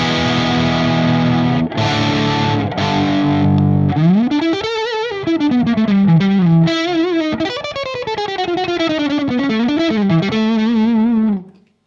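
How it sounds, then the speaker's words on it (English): Electric guitar played through an Ibanez TS808 Tube Screamer with the drive at zero and the level at full: a few sustained strummed chords, then a flowing single-note lead line with bends, steady and up front with no talking. "drive at 0 on the TS808 and level up on full, and this is the clean sound again"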